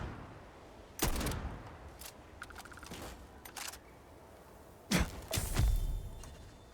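Gunfire in the Starfield video game during a sniper fight among trees: a few sharp, mid-distance shots and thumps spaced irregularly across the stretch, with quieter game ambience between them.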